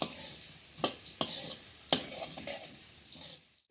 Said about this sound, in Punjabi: ਸਿਰਫ 2 ਮਿੰਟ ਆਲੂ ਆਪਾਂ ਚੰਗੀ ਤਰ੍ਹਾਂ ਐਵੇਂ ਥੋੜਾ ਜਿਹਾ ਨਾ ਫਰਾਈ ਜੇ ਕਰ ਲਾਂਗੇ